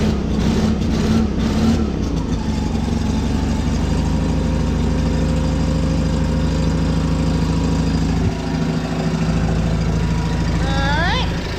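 A farm tractor engine idles while warming up, producing a loud, steady low rumble close by that continues throughout, with brief higher chirps near the end.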